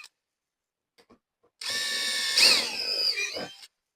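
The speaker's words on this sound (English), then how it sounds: "Drill your last 2 holes." A power drill whines as it bores holes for a fender flare, one close, loud run of about two seconds that rises in pitch and then cuts off, following a few faint clicks, with no talk.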